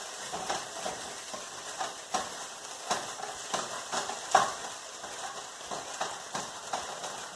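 A spatula scrapes and chops turkey sausage with onions in a skillet, giving a soft, steady frying sizzle broken by repeated scraping taps, close and fairly quiet, with no talking.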